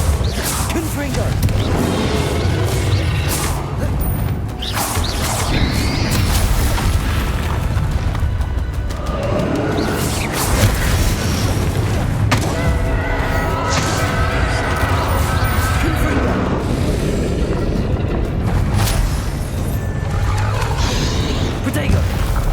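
Confringo and Bombarda spell blasts in the Hogwarts Legacy video game burst as repeated loud booms and crackling impacts amid a dense, continuous combat din, with voices calling out over it.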